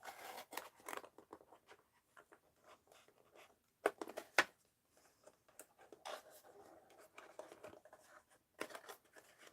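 A bubble wrap package opened at one end, with close crinkling, tearing and scissor-like snipping in irregular bursts and short pauses, mostly quiet between sounds, with no talking.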